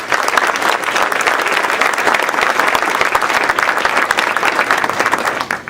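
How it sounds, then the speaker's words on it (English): Loud, continuous applause from a large audience at a Lunar New Year gala, a dense wall of clapping that stays strong for several seconds before tapering slightly at the end. "Please give her a round of applause."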